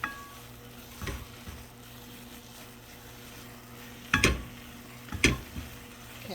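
Eclair choux dough cooks in a pan on a stovetop, a faint low simmering hum broken by a few sharp knocks and scrapes of the utensil against the pan, close and sparse without talk.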